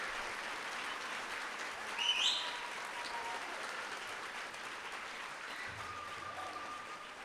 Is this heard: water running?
no